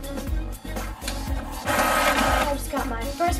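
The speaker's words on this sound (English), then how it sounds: "So now we're going to print." A printer prints nail designs with loud rhythmic mechanical chugging, the carriage passes repeating in short bursts with brief pauses between them.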